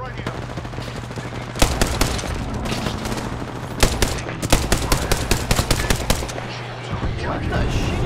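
Bursts of automatic gunfire in the Apex Legends battle royale shooter, sharp repeated shots in rapid clusters over a steady low game drone, with voices talking now and then.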